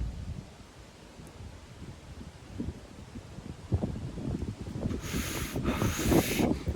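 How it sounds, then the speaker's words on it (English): Strong wind blows outdoors on a cloudy day, buffeting the microphone in rough gusts that build louder toward the end. "It's just very, very, very windy."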